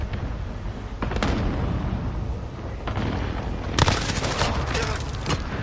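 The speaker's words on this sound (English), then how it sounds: "Be advised, friendly precision airstrike inbound." Airstrike explosions in the Call of Duty Modern Warfare shooter: a continuous rumbling barrage with several heavier booms bursting through, loud and fairly close.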